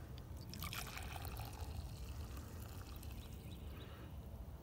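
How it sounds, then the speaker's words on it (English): Cowboy coffee poured slowly from a pan into a cup over a hobo stove, a faint soft liquid trickle that runs steadily for several seconds outdoors. "let me show you that slow pour that I was talking about"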